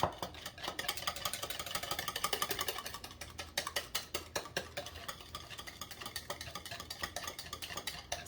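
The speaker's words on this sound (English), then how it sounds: "We are gonna whisk this together. You really want to make sure you whisk it good." A whisk beats homemade Caesar dressing for a kale and chickpea salad in a bowl, making quick, rhythmic, faint scraping clicks close by with no talking.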